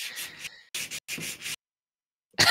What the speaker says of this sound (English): Are you um, sanding something, Randy?